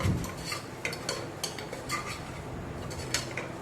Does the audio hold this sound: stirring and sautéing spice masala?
yes